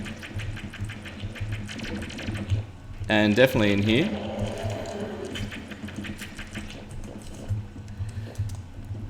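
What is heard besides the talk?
Water Bolt spell hits in Terraria video game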